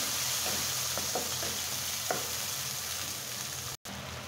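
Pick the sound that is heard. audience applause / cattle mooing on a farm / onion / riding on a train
onion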